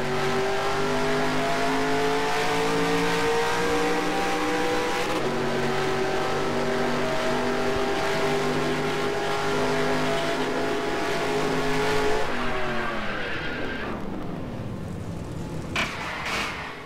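Race cars droning in the NR2003 racing game, a steady engine whine holding pitch before dropping as a car wrecks, followed by scraping and impact noises.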